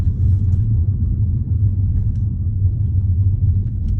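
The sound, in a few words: BMW 2 Series Gran Tourer 216i driving on road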